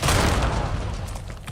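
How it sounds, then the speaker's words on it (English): A grenade blast in a first-person shooter game, a loud booming explosion with rumbling debris that fills the moment and slowly tails off. "Grenade coming in."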